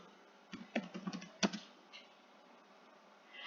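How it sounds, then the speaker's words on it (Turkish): Keys tapped on a computer keyboard while entering a school address, a quick irregular burst of clicks near the start and one sharper clack, then quiet room tone with a faint final tap. "Okulun tam adresini yazıyorum."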